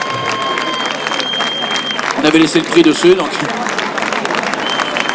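Audience applause for a third-place trophy at the 2008 Marmande International Grasstrack prize-giving: steady, dense clapping throughout, with someone speaking over it into a microphone.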